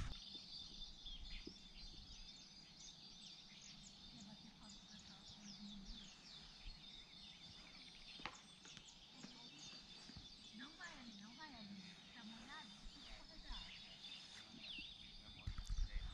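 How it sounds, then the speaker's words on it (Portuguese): Many birds singing at a campsite, a dense layer of distant chirps and trills running continuously and fairly faint, with a person speaking quietly underneath. "deixa a gente ouvir o barulho dos pássaros"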